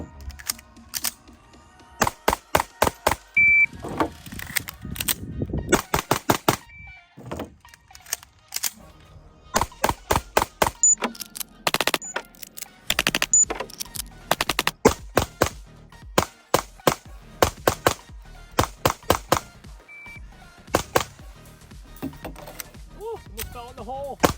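Rapid sharp reports from an Alpha Foxtrot 1911-S15 pistol during a 500-round test, fired in quick strings of shots separated by short pauses, loud and close throughout.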